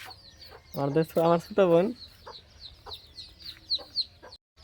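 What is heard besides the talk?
chickens clucking in a coop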